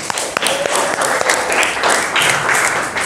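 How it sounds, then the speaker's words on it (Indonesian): Classroom applause from a group of teacher-training students, dense and steady clapping over about three seconds with faint voices mixed in. "Tepuk tangan buat kita semua."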